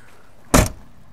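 A single solid thunk as the rear sink access hatch on a 2009 WRV Alpine Coach 36-foot motorhome is shut, one short, close impact with a brief decay and no talking.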